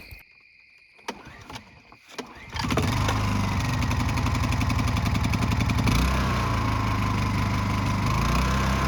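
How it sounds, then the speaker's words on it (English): A portable generator at an off-grid cabin starts: a few clicks and a brief cranking attempt, then the engine catches and settles into a loud, steady buzzing run with a slight shift in tone partway through. "I'm just going to start the Jenny up and top up our power stations."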